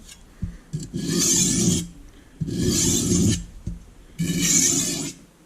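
A chipped kitchen knife is drawn across a bench stone in three long, even rasping strokes with short pauses between, close and fairly loud, with no talking.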